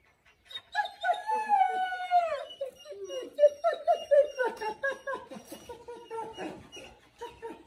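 A female Cane Corso dog close by, giving a run of high, drawn-out whining and howl-like cries with rising and falling pitch, followed by shorter yelping bursts over several seconds.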